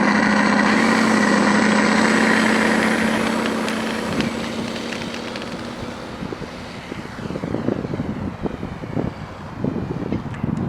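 An RC Freewing P-51D Mustang with a sound module gives a steady, loud simulated piston-engine drone with a prop-like hum. It fades a little midway as the plane flies in light wind, then returns rougher with gusty noise.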